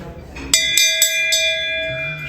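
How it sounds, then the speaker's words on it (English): An antique dinner bell rings out in several bright, close strikes, each leaving a long metallic tone that lingers and slowly fades. "And that's her original dinner bell."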